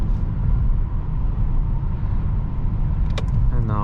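A 2021 Mercedes S-Class accelerating on a road, heard from inside as a steady, loud, even rumble of engine and road noise that continues throughout with no talking.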